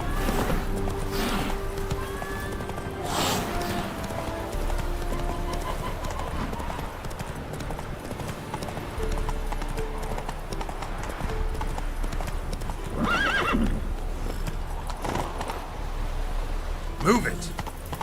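Horse hooves clip-clopping at a steady running pace across ground in The Witcher 3 video game, with occasional whinnies and a voice speaking over the rhythmic hoofbeats.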